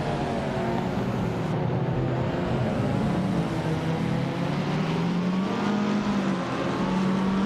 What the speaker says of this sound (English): the race is underway at Autumn Ring Mini, and leading the pack is Maya